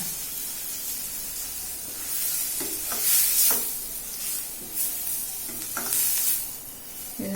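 Turmeric powder and curry leaves sauté in a pan for a blood fry, a continuous close hiss and sizzle with scraping stirs and brief louder spitting bursts, no voices.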